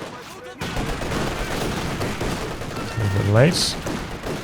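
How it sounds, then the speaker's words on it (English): Machine gun fire in the Company of Heroes 2 strategy game, a steady dense rattle of bursts running under continuous commentary, with a rising whistling shell sweeping upward near the end. "Machine gun needs to switch its focus fire over to the guards."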